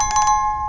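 A bright bell-like chime rings in a quick burst of four short pulses, followed by a sustained ringing tone that fades out.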